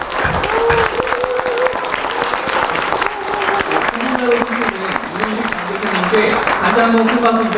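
Sustained, dense applause from a crowd at a party convention where a presidential candidate is selected, loud and close throughout, with voices mixed in beneath the clapping.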